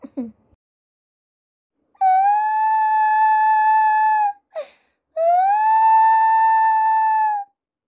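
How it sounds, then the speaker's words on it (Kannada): Two long, steady howls, each sustained for a couple of seconds, separated by a short yelp, loud and close. "ಇದೇನಿದು ಹಗಲತ್ನೇ ನಾಯಿ ಹಾಕಳಕತ್ತಾವ?"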